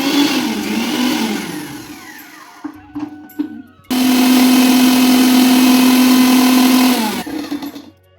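A repaired kitchen mixer grinder runs in bursts: a whirring start that winds down, a few short stuttering pulses, then a loud, steady high-pitched whine for about three seconds before spinning down.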